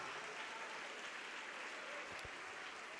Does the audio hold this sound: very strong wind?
no